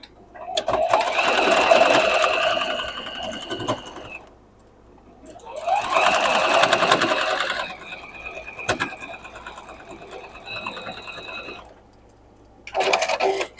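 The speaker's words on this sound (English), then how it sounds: "Nest that seam and sew 1/4 of an inch in." A home sewing machine stitches a quarter-inch seam on a modern quilt block, running in three steady whirring bursts with pauses between, close and fairly loud, with a voice talking over parts of it.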